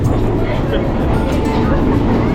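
Steady loud rumble of a moving night train in Sri Lanka heard from inside the carriage, continuous and dense, with people talking over it.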